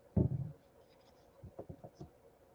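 Fabric scissors cut through Stampin' Up! craft paper with one loud crunchy snip, then a short run of quieter, quick cuts and rustles close by.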